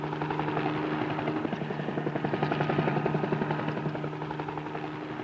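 A helicopter flies over a lake, its rotor beating in a steady rapid chop over a droning engine hum, loud and continuous, swelling slightly as it passes.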